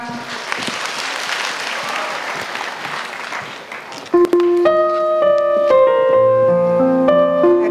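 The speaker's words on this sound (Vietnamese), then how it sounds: "Xin dành một tràng pháo tay cho bạn Thục Hoan." An audience at a send-off event claps warmly for a speaker for about four seconds, then the applause drops away as a melodic music track begins.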